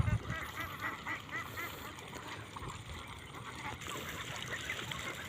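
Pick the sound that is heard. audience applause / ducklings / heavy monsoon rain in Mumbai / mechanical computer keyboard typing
ducklings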